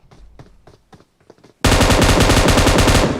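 An M249 machine gun fires in a video game, one sustained loud burst of rapid shots that follows a few quieter clicks and taps.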